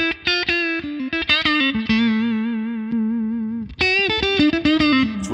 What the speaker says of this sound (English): here's the sound of regular neck pickup